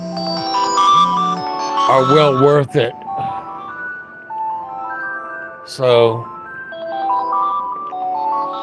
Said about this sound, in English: my alarm just went off